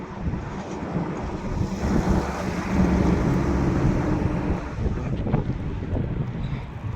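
Strong wind buffets the microphone in a continuous roar, with a low rumble underneath and no one speaking.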